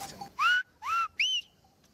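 Three separate whistled vowels, A-O-I, from a Euboea shepherd's whistled language: clear, close, sliding tones with short gaps between, the last pitched highest, with no talk underneath.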